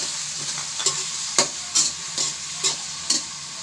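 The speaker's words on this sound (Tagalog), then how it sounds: "add na natin itong kamatis. Ayan, gisayin na natin." Tomatoes sauté in a pan under a constant sizzle, with about six sharp, evenly spaced stirring scrapes close by.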